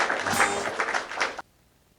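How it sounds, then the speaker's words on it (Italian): Concert audience applauding after a Neapolitan song, a dense wash of clapping that holds steady then cuts off abruptly, leaving near silence. "Questo applauso è per voi."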